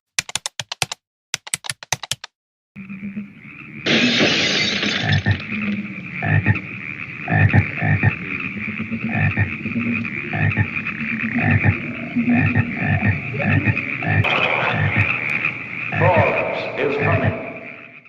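Frogs croak in a dense, rhythmic chorus of repeated low pulses and rasping calls in the 1972 horror film Frogs, after a few sharp clicks at the start, continuing loudly and steadily with overlapping tonal layers throughout.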